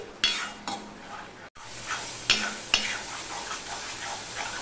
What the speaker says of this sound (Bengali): এবার কিন্তু মশলাটাকে ভালো করে কষাতে হবে